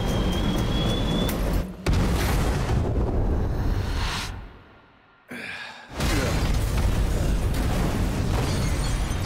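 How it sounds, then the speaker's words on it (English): A boiler blows up in the Evil West video game: a loud, sustained roaring blast with debris rumble, briefly dropping to a near-silent lull before the roar returns at full strength. "He must have been lightning fast to run away from that explosion."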